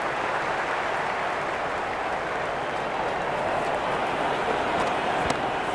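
Dense, steady roar of a cricket stadium crowd at a Sydney Sixers vs Melbourne Stars match, a continuous wash of cheering and noise with no clear breaks, loud and enveloping.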